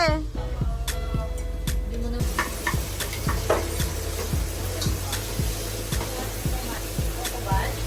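Onions sizzling and frying in a pan for pork sinigang, a steady hiss with repeated stirring scrapes and clinks throughout, close and fairly loud.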